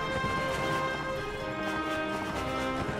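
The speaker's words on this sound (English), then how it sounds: "They're enemy horses." Enemy horses galloping in a video game, a steady stream of rapid hoofbeats over a busy layer of in-game music and noise, loud and continuous throughout.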